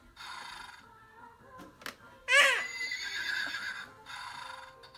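A horse lets out one loud, close whinny with a shaky, wavering pitch that fades into softer breathy tones, set between stretches of steady background hum.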